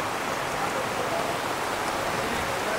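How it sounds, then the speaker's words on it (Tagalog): Heavy rain falling steadily outdoors, a dense, even hiss of drops on surfaces with no break. "lumakas na naman ang ulan"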